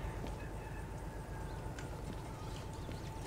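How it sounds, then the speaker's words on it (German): Chickens cluck steadily in the farm ambience of the train simulator game Derail Valley, a dense, continuous clucking over a low background rumble with no talk. "da sind die Hühner"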